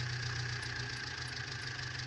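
Tractor engine idling in Farming Simulator 2019, a steady low mechanical hum with a faint rhythmic knock, quiet and continuous, no voices.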